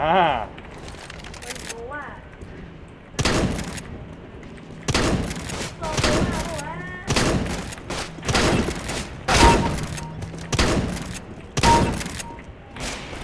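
Nova shotgun blasts in Counter-Strike: Global Offensive, loud single booming shots spaced roughly a second apart with pump-action gaps, while someone talks between them.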